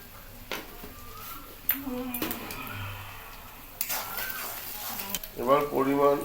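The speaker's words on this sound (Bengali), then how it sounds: "এই যে জিরের গুঁড়ো দিয়ে এবার ভালো করে কষাবো।" Ground spices with cumin powder sizzle and are stir-fried in a pan, giving a moderate crackling hiss with occasional scraping stirs and clatter, close by. A voice is briefly heard near the end.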